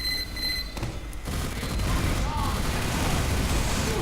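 A minigun in a Team Fortress-style video game roars in a dense, continuous stream of rapid fire against sentries at long range, loud and sustained, with other in-game sounds and alarms layered beneath it.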